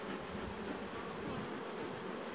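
Honeybees swarm with a thick, constant buzzing drone as smoke is puffed over them, close and steady with no voices.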